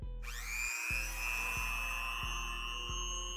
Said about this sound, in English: go over it with the Dremel.